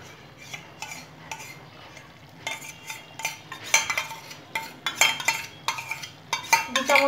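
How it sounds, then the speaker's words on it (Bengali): A spoon scrapes and clinks in a pan of vegetarian kofta curry just after ghee goes in, giving repeated close stirring strokes with a faint sizzle underneath. "একটু নাড়িয়ে দেবো।"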